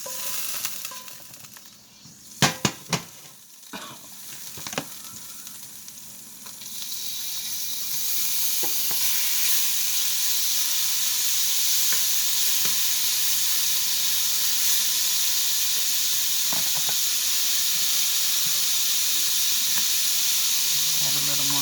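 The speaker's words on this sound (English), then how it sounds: "Olive oil because it wasn't enough. Okay, and then you'll let that sear, whatever, until it's about seared pretty good." Pepper steak sears in olive oil in a hot pan, beginning with a few sharp clatters and pops, then settling into a loud, continuous sizzle and hiss that holds steady throughout.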